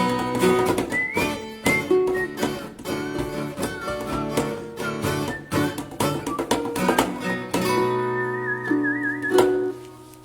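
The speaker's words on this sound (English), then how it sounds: "Good whistling" A whistled melody with sliding, wavering notes rises over dense music with steady instrumental backing, loud and continuous throughout.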